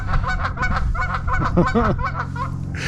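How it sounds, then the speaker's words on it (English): Waterfowl on a beach honk and call repeatedly in a busy, close chorus of rhythmic nasal squawks, with no talk over them. "The ducks seem to like that."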